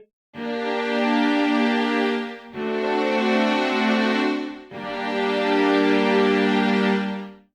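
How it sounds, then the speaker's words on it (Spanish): Strings from a sample library's sustain preset hold three long sustained chords, each bowed smoothly for about two seconds before the next begins, warm and even, with no voices. "un preset con articulaciones de notas largas o de tipo sustain, que suena así"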